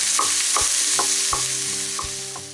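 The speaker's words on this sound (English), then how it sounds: "Our onions. We just soften these down a little bit." Onions soften while frying in a pan, a close sizzle with regular stirring knocks of a utensil about every half second, fading slightly toward the end.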